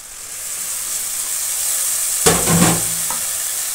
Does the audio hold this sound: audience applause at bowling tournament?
no